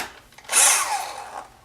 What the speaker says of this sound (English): And this is why I have a drill out here.